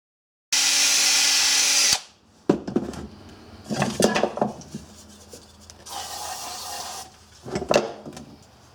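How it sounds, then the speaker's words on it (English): A high-pitched drill whines steadily for a second or two, then gives way to scraping, grinding contact bursts from honing with emery on a car hauler trailer, coming and going in uneven spurts. "Put this on high-speed drill."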